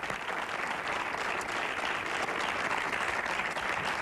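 Studio audience on a Spanish TV show applauding to welcome a singer: dense, steady, loud clapping with no voices over it.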